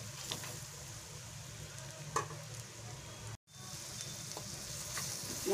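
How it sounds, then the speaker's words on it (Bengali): Spice masala with turmeric powder frying in a pan for a gourd and prawn curry, a soft continuous sizzle with a few stirring taps and a brief cut to silence midway. "দিয়ে আমি মশলাটা ভালো করে ভেজে নেব"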